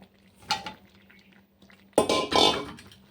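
Potatoes are stirred and sautéed in a pot of mutton curry: two short bursts of spatula scraping and wet, sizzling shuffling separated by near silence, the second burst louder and longer.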